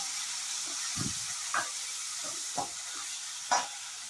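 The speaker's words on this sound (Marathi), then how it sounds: "त्याच्यात आता आपण टोमॅटो, या मिरच्या, हिरव्या मिरच्या आणि लाल मिरच्या सगळं घालून परत एकदा परतून घ्यायचं आहे" Tomatoes with green and red chillies sautéing in a pan for a sprouted green moong dal dish: a soft, steady sizzle with a few light stirring knocks scattered through.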